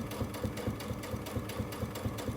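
A sewing machine stitches down quilt binding for a mitred corner, running in a steady, fast mechanical rhythm of repeated needle strokes, close and continuous with no voices.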